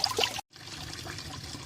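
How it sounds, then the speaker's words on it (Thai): Water spilling from a small DIY waterfall fed by a 12V 20W DC pump, a steady trickling pour close by, broken by a brief silent gap before the flow resumes. "สำหรับปั๊มน้ำจิ้วๆนะเราก็จะได้น้ำตกออกมาเป็นแบบนี้นะครับ"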